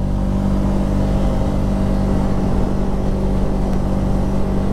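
A Segway Fugleman UT10 utility vehicle's engine accelerates with a loud, steady drone and broadband roar, close to the listener and continuous throughout, with no talking.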